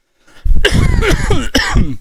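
A man coughs loudly and close up, a harsh throaty burst followed by a second cough, heard alone.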